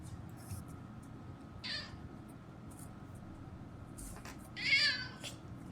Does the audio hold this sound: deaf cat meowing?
yes